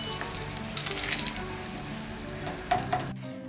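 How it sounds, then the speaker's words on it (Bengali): Stuffed flat beans fry in hot oil in a pan, giving a steady close sizzle with light crackling and occasional stirring, ending abruptly. "একই রকমভাবে বাদবাকি শিমগুলোকেও ভেজে নেব"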